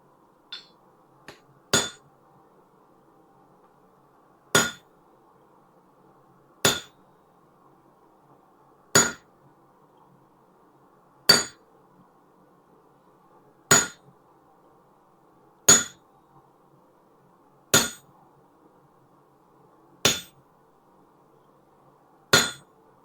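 Metal for a hair pin is hammered on an anvil at the forge, with sharp ringing blows that fall singly every two to two and a half seconds, loud and close against near silence, preceded by a couple of lighter taps.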